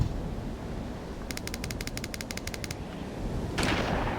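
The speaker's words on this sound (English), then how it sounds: "Probably should just go with the machine gun for right now" A rapid burst of machine-gun fire in a video game crackles sharply for about a second and a half over a steady background hum, and a brief noisy whoosh follows near the end.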